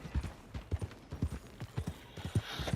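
Horse hooves clip-clopping in the video game Red Dead Redemption 2, a quiet, steady trotting rhythm of distinct hoofbeats, up close and with no talking.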